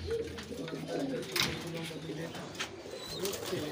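Pigeons coo softly in a Karachi breeding loft housing Kabli high flyers, low repeated calls sounding close by with a few wing flutters, while people talk nearby.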